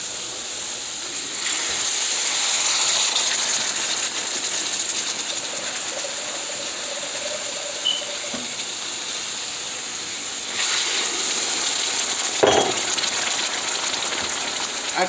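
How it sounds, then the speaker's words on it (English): Hot water poured into gravy in a pan makes a continuous hissing rush that runs for many seconds, swells at the start and again near the end, and carries a faint metallic clink partway through. "And I'm about to add my hot water."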